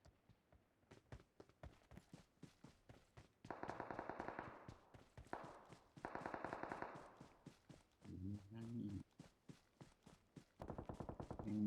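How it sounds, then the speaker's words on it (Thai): Rapid, evenly spaced gunshots crack in steady rhythmic strings from several weapons firing at once, fairly faint overall with denser bursts swelling at intervals. "ยิงกันสนั่นเลยทุกคนยิงกันไม่เป็นเพื่อนนะยิงกันหมด"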